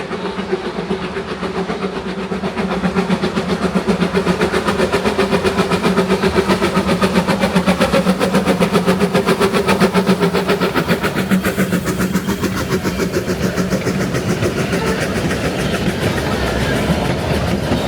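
Puffing Billy steam locomotive 8A hauls its train up a steep 1 in 40 grade into Menzies Creek, a loud, close, rapid rhythmic chuffing over a heavy rumbling drone that continues steadily throughout.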